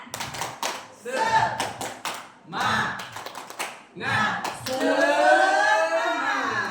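A classroom audience of teachers performs a rhythmic spirit clap during a teaching-practice session, clapping in patterned bursts separated by short pauses, then group chanting voices carry the final part over the clapping.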